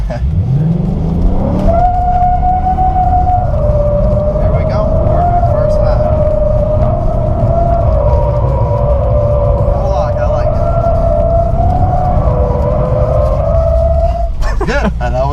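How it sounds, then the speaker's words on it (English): A 700 horsepower supercharged V8 car drifting, a loud, sustained engine drone rising at the start and holding steady with slight wavering, ending in a brief tire squeal, with people talking over it. "700 horsepower supercharged V8. That's pretty legit."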